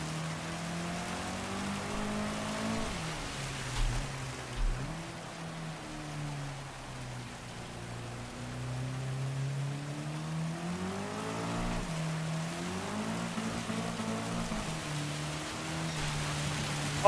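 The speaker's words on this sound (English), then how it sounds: "The rain is so loud." Loud rain hisses over a race car engine in Gran Turismo 7, the motor's pitch rising and falling through gear changes beneath a constant wash of rainfall, with no talking.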